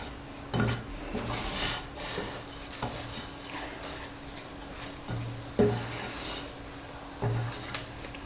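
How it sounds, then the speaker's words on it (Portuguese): Rice sizzles and crackles in a pot as a utensil stirs and scrapes against the metal in irregular bursts. "a gente começa a escutar um barulhinho como se estivesse fritando o arroz"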